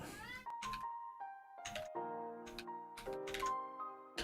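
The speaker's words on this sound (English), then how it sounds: "The cat wants to say hi." A house cat meows several times up close, short tonal calls in quick succession, with a few clicks of computer keyboard typing scattered between them.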